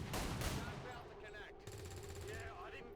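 An Overwatch shot rings out in XCOM 2 Long War of the Chosen, a burst of sharp, rapid gunfire up front. A few quieter clattering effects and brief game sounds follow.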